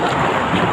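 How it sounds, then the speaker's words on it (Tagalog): Strong wind at sea roars across a small fishing boat out squid fishing in rough waves, a loud, steady broadband rush with wind buffeting the microphone. "Lakas ng hangin."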